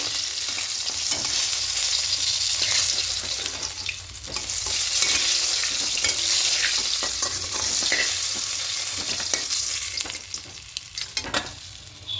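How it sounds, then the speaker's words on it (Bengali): Small fish sizzling in hot oil while being turned and stirred in the pan, a continuous bright frying hiss with intermittent scraping and clattering, rising and easing over time. "মাছগুলো লাল করে ভাজা ভেজে তুলে নেব।"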